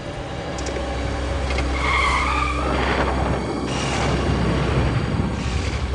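A car skidding to a sudden stop on the road, a long loud rushing tire-and-engine roar that swells and holds steady for several seconds, dense and close with no talking.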